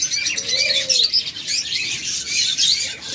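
A brooding Japanese finch pair keeps up a steady stream of high, thin chirps close by, with other birds faintly mixed in under a constant low background hum.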